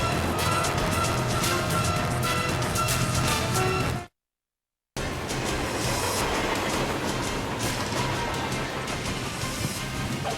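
A video game train rumbles and clatters along rails, steady and loud. A second of silence cuts in before the rolling resumes.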